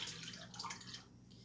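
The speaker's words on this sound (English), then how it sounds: "And then I will just start pouring it in and filling these jars." Kombucha being poured from a cup into glass jars in a home kitchen, a continuous close splashing and trickling of liquid that eases off toward the end.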